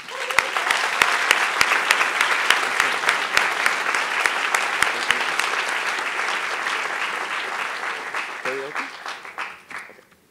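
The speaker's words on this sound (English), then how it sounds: "So I'd like to give her a round of applause for that." Steady applause from a large crowd at a student conservative conference, dense and loud clapping that carries for about ten seconds with a few sharp individual claps standing out, then fades as a voice briefly comes in.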